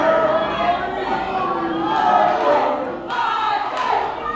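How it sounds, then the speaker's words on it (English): A pro wrestling crowd at a PWX match between Gory and Paul London roars and shouts steadily, a dense wash of many voices that swells and dips throughout. "And listen to this crowd voice their opinion."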